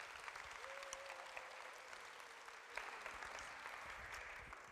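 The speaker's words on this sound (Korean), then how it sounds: "박수로 맞이해 주십시오" Audience applause welcomes a liver-cancer surgeon to the stage at a lunch-session lecture in Pohang, a steady, dense clapping sustained throughout with a faint whistle-like tone early on.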